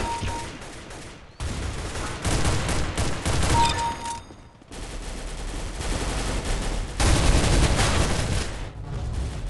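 Counter-Strike: Global Offensive Arms Race match with dense, close bursts of gunfire and bullets whizzing past, nearly continuous apart from a brief lull midway, with no voices.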